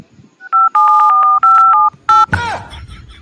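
A phone keypad gives a quick series of close, loud DTMF tones, about eight beeps in uneven bursts, followed by a brief noisy rustle with faint background sound.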